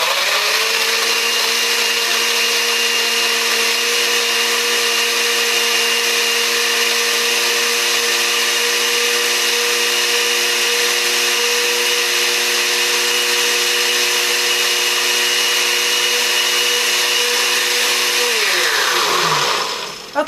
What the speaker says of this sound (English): You need to chop your ingredients up so that the blender can handle mixing it up.